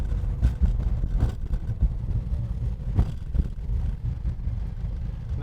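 A 1969 Ford Mustang Boss with a Kaase-powered engine rumbles while driving, its deep engine note rising and dipping through smooth gear shifts, heard from inside at steady moderate loudness.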